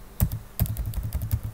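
Computer keyboard keys are pressed while navigating in the vim editor, a handful of soft, close clicks in an uneven rhythm with several quick taps.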